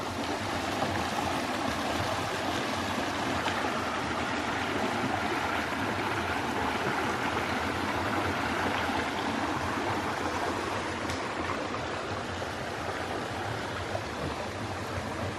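A stream of tannin-stained water flows beneath a big old bridge along the Appalachian Trail, giving a steady, broadband rushing that stays even and continuous from start to finish, with no voices.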